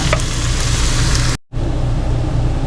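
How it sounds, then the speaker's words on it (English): Ground beef and vegetables sautéing in a pan outdoors at an RV, a loud, steady crackling sizzle close by, briefly cut out for an instant before resuming. "I'm going to dump in our vegetables and saute these until they are nice and tender"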